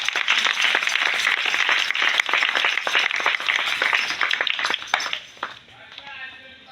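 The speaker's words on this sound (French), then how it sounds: "Applaudis pour son Dieu." A church congregation claps steadily for several seconds during worship, dense and loud, then the applause thins out and fades near the end.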